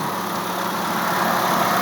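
A Mitsubishi 4G63 engine idles close up with a steady, even rumble and no changes in speed.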